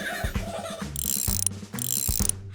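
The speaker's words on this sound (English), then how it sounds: "You need strong muscles to clench to lift up this wrench." Cartoon wrench turning the gears of a tractor, making two loud bursts of ratcheting, clanking mechanical noise with a short pause between them.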